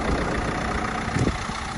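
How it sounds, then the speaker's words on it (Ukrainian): A 2012 Renault Grand Scenic 1.5 diesel engine idling with a steady, low rumble, even and close by, with no talking. "Двигун працює тихенько, рівненько"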